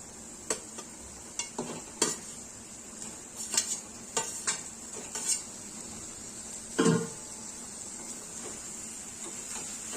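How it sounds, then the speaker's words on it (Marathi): Chicken pieces go into a pan of roasted black masala and are stirred for a Maharashtrian chicken curry, with soft scraping and clinking spoon strokes and a brief burst of sizzle, all fairly quiet and without talk. "मसाला छान असा परतून झाला की यामध्ये आपण चिकनचे पीसेस ऍड करणार आहोत"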